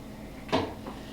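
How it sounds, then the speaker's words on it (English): A freeze dryer door swings shut once with a short, close thump, followed by a faint softer click. "In goes the cushion, and the door goes closed."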